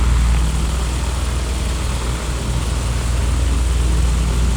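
An Aero Commander twin-prop plane idles after engine start in a flight simulator on an Alaskan tour, a loud steady propeller drone with a low throbbing beat, continuous and without talk.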